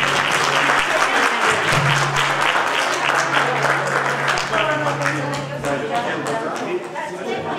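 A crowd claps steadily for the Cuci folk ensemble from Brănești at an outdoor Horse Easter celebration in Târgoviște, with dense sustained applause fading slightly toward the end.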